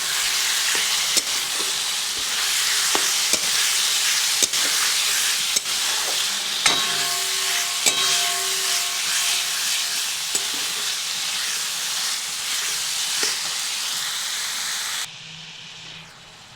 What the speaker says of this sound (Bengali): তো দিয়ে এটিকে 2 মিনিট ভেজে নেব।